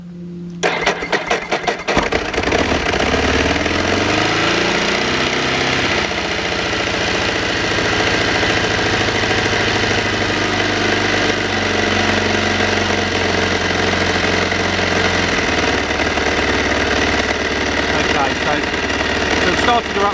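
A vehicle engine cranks, catches and settles into a loud, steady fast idle, a continuous rumbling drone with a slight shift in tone after a few seconds, running for the whole stretch.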